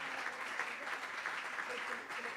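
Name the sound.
applause in a church service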